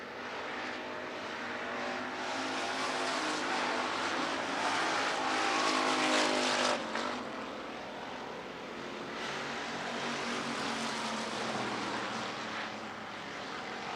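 A pack of 305 sprint cars races around a speedway, their engines a loud, continuous high roar that swells as cars pass close and eases slightly as they move away.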